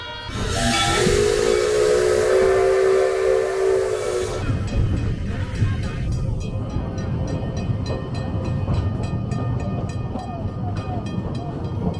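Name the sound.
coal-burning steam locomotive whistle and steam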